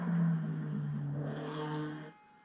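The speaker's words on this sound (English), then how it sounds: "We can't wait to hear that beautiful straight six growl of the D-type." Jaguar D-type straight-six engine at a hill climb, a loud steady growl with deep low harmonics that holds for about two seconds, then drops away abruptly to quiet.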